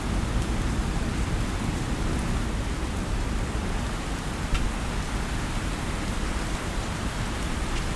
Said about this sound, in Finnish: Tänne sataa sisään.